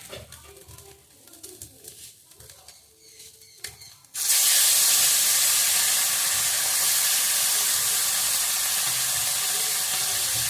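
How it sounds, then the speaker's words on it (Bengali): Rohu fish dropped into hot oil bursts into a loud, steady frying hiss after a few seconds of quiet kitchen clatter, then keeps sizzling evenly and close up. "তেল গরম হয়ে গেছে, মাছগুলো এক এক করে ভাজবো।"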